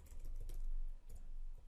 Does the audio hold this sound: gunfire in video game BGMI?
no